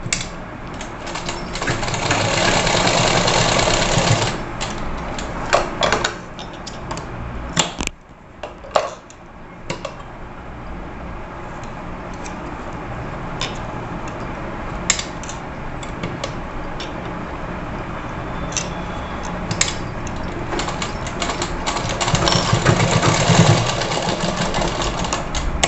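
Electric sewing machine stitching lace onto a net blouse runs in steady whirring bursts, loud and close, with short pauses and clicks between runs.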